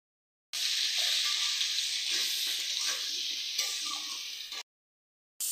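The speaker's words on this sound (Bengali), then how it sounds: "সামান্য একটু ভেজে এখন ফুলকপি দিয়ে দেওয়া হচ্ছে।" Cauliflower sizzling as it fries in hot oil with salt, a steady close hiss crackling for about four seconds before cutting off, with no voices.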